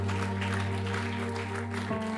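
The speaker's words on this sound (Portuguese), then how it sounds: "Dê um aplauso a Jesus bem forte." Congregation at an Easter church service claps steadily in a dense, continuous wash, with a sustained organ or keyboard chord humming underneath.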